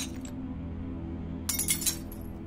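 A glass slides off and shatters in a bar, a sudden bright burst of breaking and tinkling shards over a steady low background hum, heard nearby with no talking.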